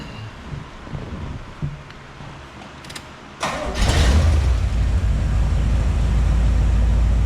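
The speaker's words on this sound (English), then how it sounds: "then we're going to start the car, check for leaks" A 1973 Corvette engine cranks and fires at about 3.5 seconds, then settles into a loud, steady, close rumble that runs to the end. Faint clicks and handling noises come before it.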